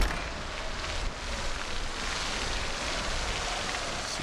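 Steady rain in the video game Project Zomboid fills the scene as a dense, even hiss of falling drops, fairly loud and continuous throughout with no voices.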